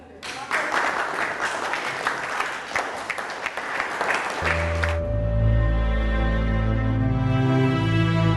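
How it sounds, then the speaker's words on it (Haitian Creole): An audience gives a contestant loud, dense applause for about five seconds before it cuts abruptly into music. "Je vous demande de l'applaudir très chaudement"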